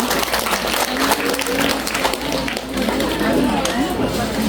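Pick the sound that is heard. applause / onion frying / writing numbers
applause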